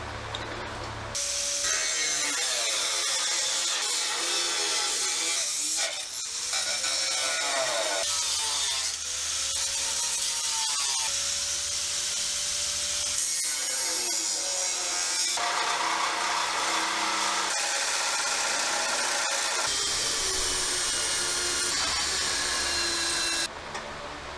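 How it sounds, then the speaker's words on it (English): A power cutter grinds through the sheet metal of a 1965 Chevrolet C10 truck bed in long continuous passes, loud and close, with brief pauses and shifting pitch as the blade works. "We're going to cut it right along this line."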